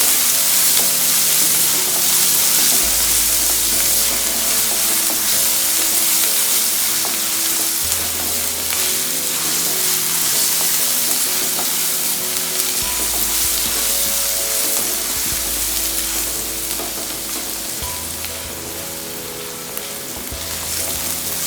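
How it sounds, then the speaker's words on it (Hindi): Onions fry on a tawa with a steady, loud sizzle that runs the whole time, dotted with occasional scraping stirs; a low hum rises and falls under it. Nobody speaks. "हल्का सा कलर चेंज हो जाए ऑनियन का, जब तक हम इसे फ्राई करेंगे ऐसे।"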